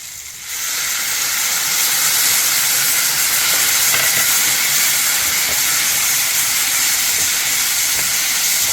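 Squeezed tamarind water is poured into a hot egg and brinjal curry, setting off a sudden loud, sustained steamy hiss and sizzle that holds steady to the end.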